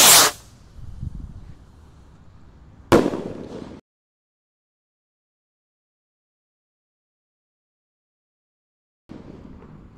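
A gold rocket firework launches with a sharp hissing whoosh, followed by a second loud burst and fizzing trail outdoors, then silence before faint rustling noise.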